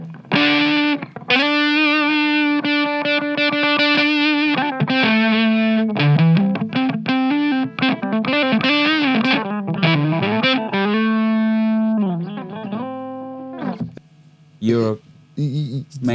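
An electric guitar played through an MXR MC 402 boost and overdrive pedal gives sustained distorted notes and chords, loud and close, ending in a few short choppy strums, with no talking.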